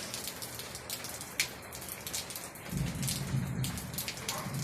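Heavy rain pours steadily and loudly on the surfaces nearby, a dense hiss that swells louder and deeper partway through, with one sharp drop hitting close by.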